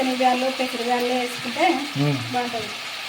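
Cabbage and green chilies fry in a pan, a steady close sizzle with stirring scrapes, and a voice talks over it throughout.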